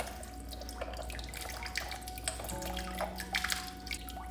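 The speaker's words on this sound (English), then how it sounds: "Get all the water out of it." Water trickling and dripping as it drains out of an unscrewed filter housing on a Coleman Saluspa inflatable hot tub, a steady close-up splashing flow with small drips.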